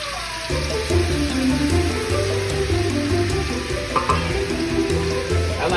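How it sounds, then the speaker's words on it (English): Garlic browns in oil in a pan for pancit, with a steady, loud sizzle and crackle running continuously, plus faint utensil movements. "you're putting that in with some oil, and you're just gonna brown the garlic"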